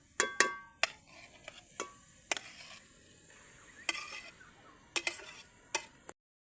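A spoon stirs ginger, garlic, tomato and jackfruit in a pan, making sparse sharp clinks and scrapes against the metal with quiet pauses between strokes.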